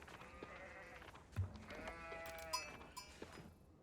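Sheep bleat in the Age of Empires IV video game, several wavering calls in quick succession at moderate volume over a faint ambient game background.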